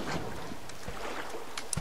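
A wooden raft is shoved into the water in the survival video game The Forest, giving a steady watery wash and hiss with a few light splashing knocks near the end.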